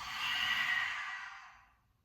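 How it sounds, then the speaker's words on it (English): A single long open-mouthed exhale during a vinyasa yoga flow, breathy and close, swelling then fading out over about two seconds with no talk. "Take a big cleansing breath in through your nose. Open mouth, exhale."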